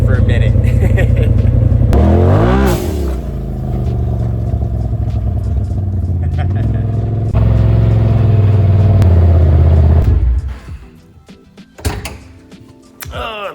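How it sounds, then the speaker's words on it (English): A loud UTV engine with an aftermarket exhaust revs hard several times, with sharp whooshing blow-off valve releases between revs and a few clunks near the end. "that agency exhaust sounds dope, right? So does the blow-off valve."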